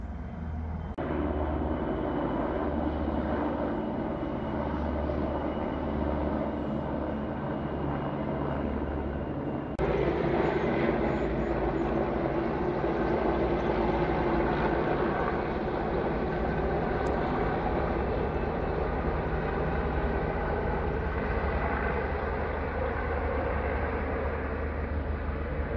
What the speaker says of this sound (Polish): Znowu helikopter.